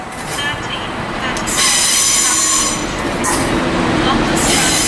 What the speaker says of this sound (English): There comes the Southern Diesel,